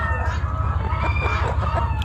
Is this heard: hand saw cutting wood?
no